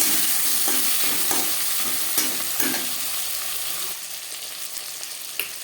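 Chopped tomatoes frying in a pan with oil for a rohu fish curry with bottle gourd stems, a steady close sizzle broken by the scrape and clatter of stirring throughout.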